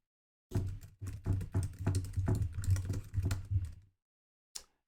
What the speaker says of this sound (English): And then also typing into the keyboard as well.